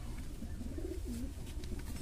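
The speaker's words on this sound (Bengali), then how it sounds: "সাটিনের একটা প্রজাতি আমরা ছেড়ে দেখাচ্ছি" A satin fancy pigeon gives a soft rolling coo in a quiet loft, fairly near, over a low background hum, with faint chirps around it and no talking.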